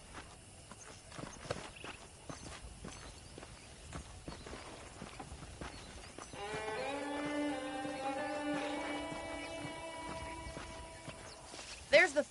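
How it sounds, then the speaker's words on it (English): Horse hooves clip-clop steadily in Red Dead Redemption, a saddled horse walking at a relaxed gait, mixed with game ambience, later joined by a sustained musical or tonal layer, and a character's voice nearby. "The horses are saddled up over here."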